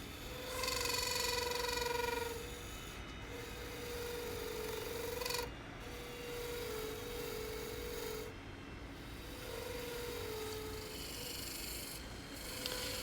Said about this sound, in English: now we're hollowing out the inside of this box.